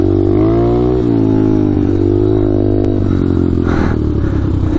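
A small clutchless pit bike with a new piston running on a ride, a loud steady engine drone rising and falling with throttle changes, close and continuous.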